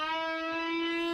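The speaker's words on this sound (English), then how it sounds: "If you set the delay time for less than 30 milliseconds and crank up the feedback, you get an effect called tubing." A steady, ringing metallic tone with dense evenly spaced harmonics from a delay set under 30 milliseconds with high feedback (tubing effect), sustained and loud throughout.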